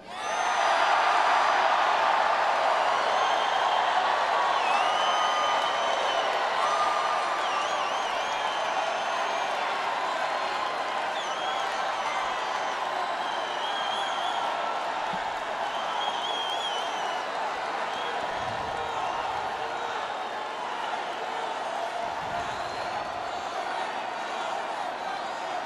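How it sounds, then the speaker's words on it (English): Long, steady crowd applause with scattered cheers and whoops from a live audience at a fighting event, holding loud and unbroken for the whole stretch. "we had this long of an applause break"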